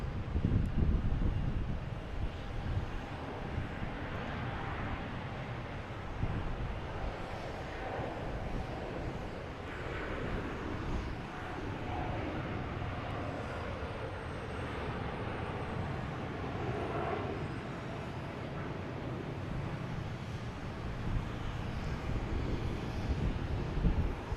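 An Etihad Boeing 787-9 takes off from Boston Logan Airport, its broad engine roar steady and loud throughout, with wind rumble buffeting the microphone.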